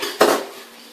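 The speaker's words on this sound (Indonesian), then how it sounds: "Goreng kelapa tadi ya, sambil terus diaduk-aduk agar matang merata dan juga tidak gosong." A spoon scrapes once against a pan, a quick metallic stir close by, stirring grated coconut as it fries, with a soft frying hiss continuing underneath.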